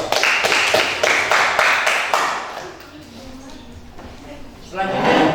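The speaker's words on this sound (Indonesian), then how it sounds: "tepuk tangan untuk kelompok 2" A classroom group claps in steady unison for a student team after its presentation, sharp rhythmic claps that taper off before a voice begins speaking.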